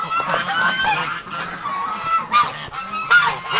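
A flock of geese honks repeatedly and close by in a frozen farmyard in March, overlapping loud calls with brief gaps between them.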